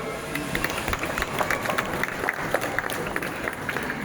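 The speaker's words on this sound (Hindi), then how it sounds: "सब लोग उसके लिए ताली बजाओ" A classroom audience at a career guidance session clapping together, a moderate steady patter of many hands continuing for several seconds.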